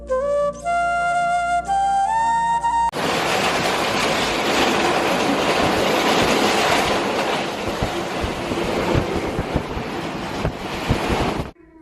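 A moving passenger train bound for Chittagong on the Rajshahi to Cox's Bazar run fills the space with a loud, constant roar and rattle. A short tonal passage plays before the noise takes over.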